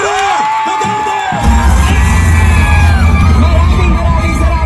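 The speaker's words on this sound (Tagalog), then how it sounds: "natin ng mainit na palakpak at sigawan, Vice President Sara Duterte!" A large rally crowd bursts into loud cheering, yelling and whoops for Vice President Sara Duterte, following an announcer's voice over amplified speakers, the roar sustained to the end.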